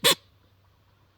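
A single short, sharp blast on a TDA Teal Duo teal duck call, voiced with a "dit" sound, loud and close, then quiet with a faint low hum.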